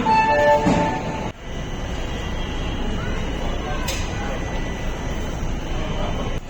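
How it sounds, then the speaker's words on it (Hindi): A Superfast Express intercity train pulls away from Churu Junction, a steady low rumble of rolling wagons filling the carriage after a brief thump, with a faint tonal hum and a short high squeal midway. "और चूरू जंक्शन से हमारी ट्रेन चल पड़ी है"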